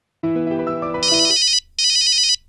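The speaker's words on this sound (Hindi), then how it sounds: "फोन बज रहा है तेरा।" A phone ringtone plays loudly: a low melodic tune, then two bursts of high, rapid electronic trilling separated by a short pause.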